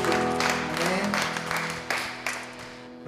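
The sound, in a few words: applause in a church prayer service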